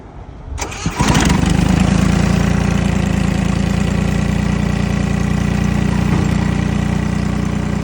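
An Iseki 217 Japanese compact tractor with a three-speed gearbox cranks over and fires up, then settles into a loud, steady diesel idle close by, with no talk over it.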